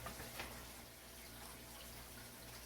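Tap water runs into the reservoir of a LetPot LPH-Max 4-in-1 smart garden, a soft, steady rushing flow heard close up and fairly quiet, with no talking over it.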